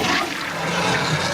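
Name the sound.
toilet flush in Sam and Max video game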